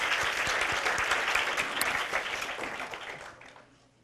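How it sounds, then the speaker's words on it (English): A round of applause from an audience for Emily Baca, dense and steady clapping that holds for about three seconds and then fades out toward the end. "can we get a round of applause for Emily Baca?"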